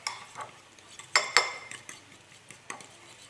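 A spoon clinks against a pot while stirring a tomato paste and water mixture for a potato dish, with scattered light scrapes and a few sharper taps, close and fairly quiet, with no talking.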